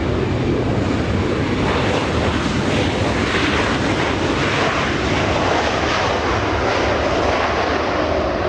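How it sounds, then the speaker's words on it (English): A Delta Airbus A320, about 24 years old, lands at LAX with a loud, continuous broadband jet roar that holds steady throughout, alone with no talk. "Delta 816 flying in from Austin, Texas, 2 hours 32 minutes of flight time, a little A320."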